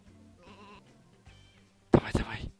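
Sheep bleating in the video game Sheep Dog 'n' Wolf, two soft wavering bleats followed by a sudden loud burst of game sound near the end.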